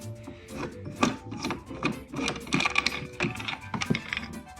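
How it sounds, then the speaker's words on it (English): Bolts are unscrewed from a Honda Goldwing grab rail with hand tools, heard as close, quiet scraping, clicking and ratcheting in irregular bursts with short pauses between them. "Now, unscrew the bolts."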